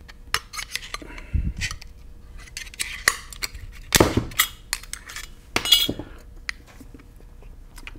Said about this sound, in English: let me just pop off the shield here